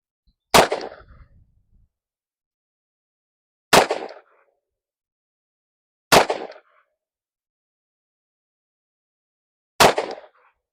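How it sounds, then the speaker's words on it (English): A 1933 Smith & Wesson 38/44 Outdoorsman revolver fires four loud, sharp shots from 10 yards, spaced a few seconds apart, each a close crack with a brief decay and silence between, with no voices. "We're just going to park 6 shots on a B8 and see how she shoots from 10 yards."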